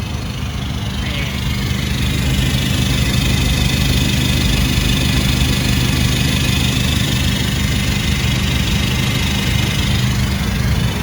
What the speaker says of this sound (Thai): นี่คือเสียงท่อหน้าเผานะฮะ